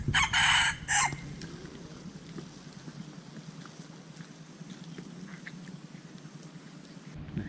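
A rooster crows once loudly at the start, followed by steady low background rumble and faint ambient noise.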